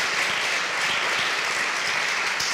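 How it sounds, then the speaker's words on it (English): Audience applause at a church event, a dense, even roar of many hands clapping throughout, fairly close and without talk. "So just from that applause"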